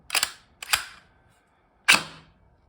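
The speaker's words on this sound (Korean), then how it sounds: "근데 이 차징 핸들로도 작동시킬 수가 있습니다" Metallic clacks from working the charging handle on a G&G G3 SGR556 airsoft rifle: two sharp snaps close together, a pause, then a third louder clack, all close and dry with no voice.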